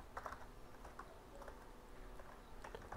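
Code being typed on a computer keyboard during a PHP programming lesson: a faint, steady patter of key clicks in irregular bursts, close by, with no voices.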